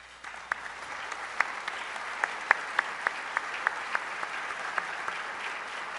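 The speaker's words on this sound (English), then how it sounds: "So please give them a round of applause." Audience at a journalism awards evening applauds steadily, a moderately distant, even patter of clapping with a few sharp individual claps standing out throughout.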